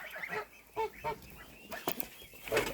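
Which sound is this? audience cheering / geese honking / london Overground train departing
geese honking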